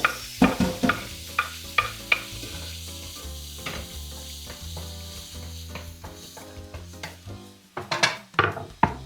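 Chopped onion sautéing in a pan as the base for a sumpia filling, a soft sizzle under repeated clinks and scrapes of a utensil against the pan, sharper clatters near the end, no voices.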